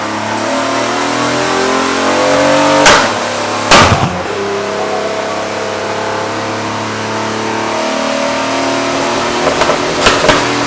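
A V6 Firebird engine revs hard on a dyno, a loud sustained roar climbing through the gears, with sharp bangs or pops around three to four seconds and more near the end.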